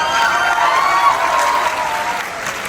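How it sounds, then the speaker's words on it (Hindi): A live audience applauds student theater performers at a university stage event, steady dense clapping with some crowd murmur filling the hall throughout. "उसके लिए तो भाई तालियां बजाएं।"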